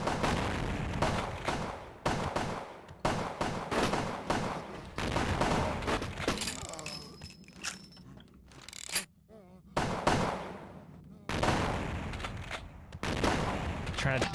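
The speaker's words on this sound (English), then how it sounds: "Trying to dodge as many bullets as I can." Gunfire and shotgun blasts from a firefight in Vampire: The Masquerade - Bloodlines, coming in repeated dense bursts with brief gaps, loud and close.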